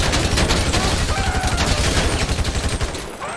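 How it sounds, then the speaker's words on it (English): Dense, rapid video-game gunfire from a modded GTA San Andreas session, with bursts of overlapping shots rattling steadily for a few seconds and then thinning out at the end. "Just gonna fire off some rounds."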